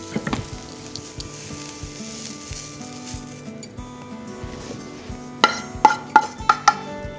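Leeks and onions sizzle steadily in a pan with olive oil, a continuous close frying hiss joined near the end by several sharp metallic taps and clinks.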